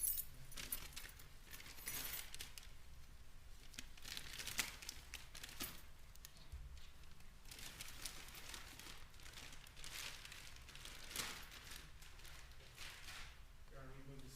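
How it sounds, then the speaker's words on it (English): A set of Kia vehicle keys handled as evidence in a courtroom, giving quiet, scattered metallic jingles and clinks over roughly fourteen seconds, with faint rustling and low room murmur. "And then there's a set of keys for a Kia vehicle."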